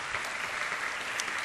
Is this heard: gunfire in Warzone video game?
no